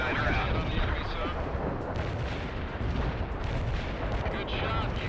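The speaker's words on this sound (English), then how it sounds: "Artillery barrage hit for full effect" An artillery barrage in the World in Conflict video game pounds the target area with a continuous, loud wall of rumbling explosions and crackling blasts, dense and unbroken throughout.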